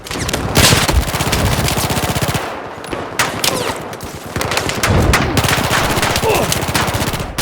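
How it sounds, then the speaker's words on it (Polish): Battlefield 4 gunfire: loud, close bursts of rapid automatic fire with brief pauses between volleys, dense and sustained over several seconds. "A tam jeszcze ktoś do mnie pali."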